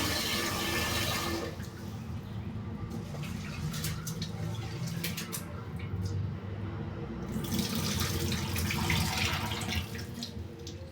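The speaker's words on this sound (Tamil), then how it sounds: "அதுதான் அரிசியை கழுவிக்கிட்டு இருக்கிறேன்" Rice being washed in water in a home kitchen, with tap water running and splashing, a break in the middle, then more running and swishing water.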